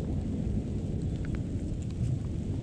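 Deep, continuous thunder rolls through a storm beside the water during a fishing trip, a steady low rumble with rain and no talking.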